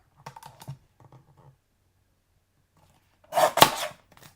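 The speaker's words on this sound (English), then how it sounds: "And then now I'm going to take my teeny tiny trimmer," Small paper trimmer slicing through card: a few light clicks and taps, a pause, then one brief louder sliding cut close by.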